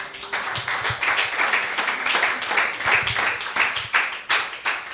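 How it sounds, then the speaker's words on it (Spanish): A church congregation claps for the Lord during a sermon, a lively burst of hand clapping with uneven rhythmic peaks, fairly close and loud, with faint voices mixed in. "Dele un aplauso al Señor."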